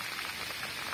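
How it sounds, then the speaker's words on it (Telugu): Heavy rain falling outdoors during a hill trek near a Vizag viewpoint, a dense steady hiss of drops striking surfaces close by, with no voices. "చాలా పెద్ద వర్షం పడుతుంది."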